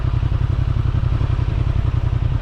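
A Honda Transalp 750 motorcycle engine idles and pulls slowly uphill at low speed with a light throttle, a steady close thrumming pulse with mechanical clatter running throughout.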